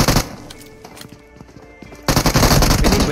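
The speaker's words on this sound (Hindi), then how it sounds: "सामने से टीम 90 के प्लेस भी यहाँ पे शॉट्स ले रहे हैं" Automatic gunfire in the battle royale game BGMI during a tournament match: bursts of rapid shots crackle loudly, easing off briefly before a heavier, denser volley erupts.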